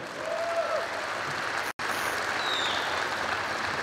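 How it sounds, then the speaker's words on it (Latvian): Steady applause from a large crowd at a state police anniversary celebration in Arena Riga, dense and continuous for several seconds with only a brief cut in the middle. "Aplaus arī Valērijam Admitiņam."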